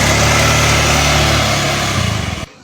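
A small motorcycle engine runs loud and close with a buzzy, steady drone, then cuts off abruptly near the end.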